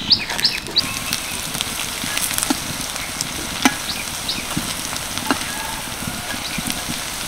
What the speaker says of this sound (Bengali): ভালো করে হাত দিয়ে পেঁয়াজটাকে এইভাবে মিশিয়ে নেব।